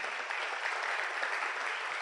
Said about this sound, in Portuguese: Dê uma salva de palmas pela vida de José.